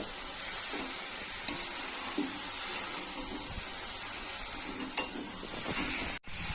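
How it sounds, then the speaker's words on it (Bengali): A vegetable chop mixture fries in a pan with a constant soft sizzle and a few faint scrapes and taps of stirring, with no talking. "এটাকে ভেজে নিচ্ছি"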